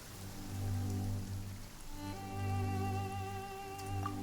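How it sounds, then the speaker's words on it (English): Heavy rain falls in Genshin Impact as a soft, continuous patter beneath sustained musical tones that swell and fade, with no speech. "heavy rain must be quite an inconvenience for you."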